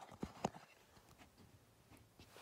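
Two sharp hoof clops from a horse standing out in the sun, close together near the start, then only faint background noise.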